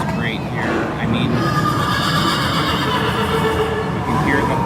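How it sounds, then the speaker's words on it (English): A horse whinnies amid loud, busy crowd noise at the Headless Horseman display during Halloween Time at Disneyland, with people talking throughout and a second brief neigh near the end. "you can hear the horse"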